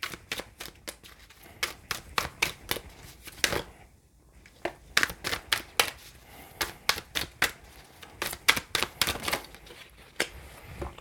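Tarot cards are shuffled and drawn by hand, a close series of crisp, rapid card flicks and snaps arriving in bursts around a short quiet gap.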